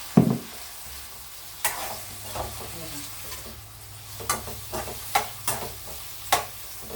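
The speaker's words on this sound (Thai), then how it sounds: "อุมาจะเอามะระจีนลงไปผัดก่อน ผัดให้หอมหอม" Chinese bitter melon stir-fried in a pan, with scattered scraping and stirring clatters over a low, steady frying hiss, close and fairly quiet, no talking.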